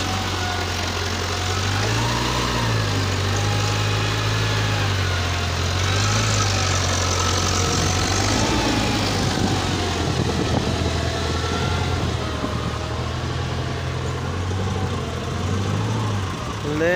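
A truck engine idles with a low steady rumble while the vehicle swings around, a person talking over the continuous drone throughout.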